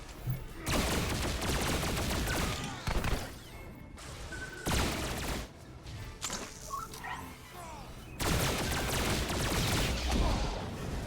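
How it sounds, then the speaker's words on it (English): Heavy Incinerator scatter gun blasting in the Star Wars: The Old Republic game, a series of loud, sustained bursts separated by short gaps, with voices and other game sounds underneath. "It's a scatter gun, also known as the Heavy Incinerator."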